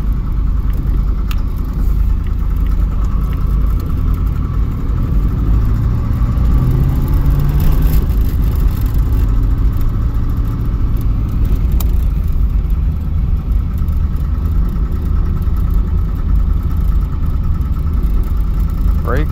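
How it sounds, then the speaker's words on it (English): A 305 V8 engine in a 1989 Camaro runs steadily, a loud, close, constant low rumble with slight variations in pitch throughout. "This is the last time it'll ever run on this 305."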